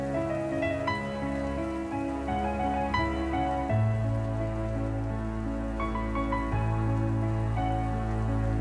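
Rain falls steadily on an outdoor wedding, a continuous hiss of drops on surfaces that stays even and fairly loud throughout, with music and no speech on top.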